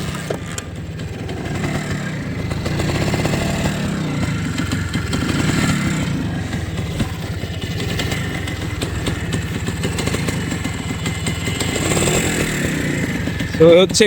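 A Honda H100S two-stroke motorcycle runs after a kick-start, its engine a steady, close, low burbling rumble that holds throughout, with indistinct voices faintly underneath.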